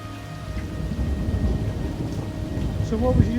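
Steady rain falling on a North Wales coastal beach, a broad continuous hiss with low rumbling wind over it, fairly close and constant, with no voices.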